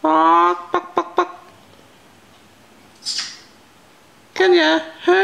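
An African grey parrot imitates a hen's clucking, giving a short harmonic call and several sharp clicks, then a hissy note, and ends with a louder burst of clucking calls. All of it sounds close.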